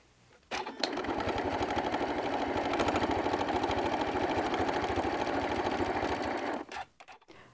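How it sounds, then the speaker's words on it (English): A sewing machine runs steadily for several seconds, top stitching along the edge of a quilt-as-you-go block. Its motor whirs with a rapid, even needle chatter, starting and stopping cleanly, close and alone. "So I'm going to go and do this top stitching, and then I'll show you what it looks like."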